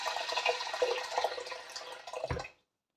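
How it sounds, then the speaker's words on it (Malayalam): Water is poured from a vessel into a pressure cooker holding soaked green gram, giving a close, bubbling splash for about two and a half seconds before stopping abruptly. "അതിനകത്തോട്ട് നമുക്ക് കുറച്ച് വെള്ളം ഒഴിക്കാം"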